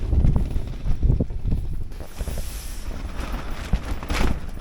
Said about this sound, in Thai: ลมนี่อย่างแรงเลย